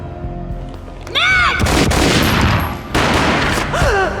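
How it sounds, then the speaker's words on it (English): A gunshot sound effect in a Max Payne graphic novel sequence: a sharp, loud boom at about one second, followed by sustained rumbling and a second blast near three seconds, with tonal whooshes around them and no talking. "A gunshot boomed and she fell down in slow motion."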